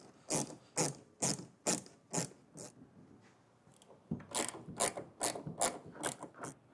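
A 90-degree ratcheting bit holder backing out Phillips head screws on a 2019 Honda Odyssey during a trailer hitch install, close crisp ratchet clicks in two bursts of repeated strokes with a short pause between, no speech.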